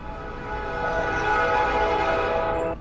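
A player at a Dungeons & Dragons table imitates a loud train noise with his voice, a sustained droning horn-like tone that swells and holds for a few seconds.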